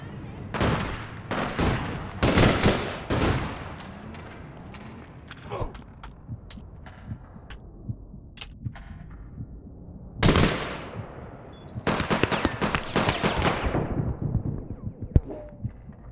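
Handgun fire in the online shooter APB Reloaded, with sharp bursts of shots clustered early, a quieter stretch of scattered pops, then another dense volley of rapid cracks near the end.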